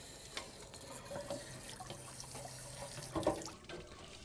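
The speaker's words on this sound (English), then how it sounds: "I'm gonna let that remaining water come out of there." Water drains out of an RV water heater tank as a flushing wand works through calcium scale, with splashy trickling and gurgles at close range and a few louder spurts, no talking.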